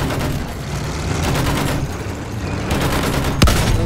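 Sustained gunfire aimed at a bomber in the shooter game Battlefield 1, a dense fusillade of rapid shots rattling continuously, with one sharp, heavier blast near the end.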